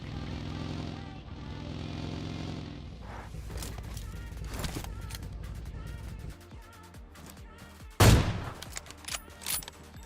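AWM sniper rifle fire in a battle-royale video game, a heavy sharp crack near the end followed by a few smaller reports, over engine-like game background noise.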